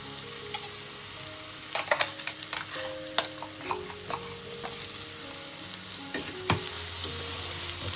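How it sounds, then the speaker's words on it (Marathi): A ground spice paste from the mixer sizzles steadily in hot oil while a spoon scrapes and clinks against the pan, with occasional sharper taps. "तेलामध्ये परतून घ्यायचं वाटण परतून झालेलं आहे"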